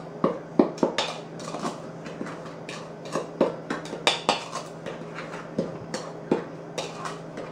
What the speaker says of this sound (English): So I'll give that dry a little stir around.